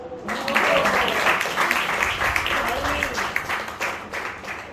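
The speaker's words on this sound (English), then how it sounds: "Can we keep the round of applause?" Sustained round of applause from an audience at a school interns' farewell event, a dense wash of clapping with voices mixed in throughout.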